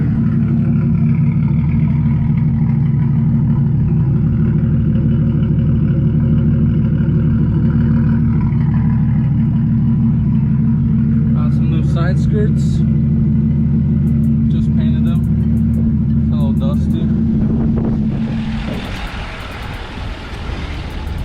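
A 1JZ-engined Lexus IS300 idles with a loud, steady low rumble and sharp revs from close by. The engine note changes near the end.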